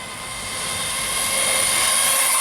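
Kyosho Scorpion RC car fitted with a Tamiya Torque Tuned motor, giving a steady, loud, high-pitched electric whine that swells slightly and holds for a couple of seconds without any talk.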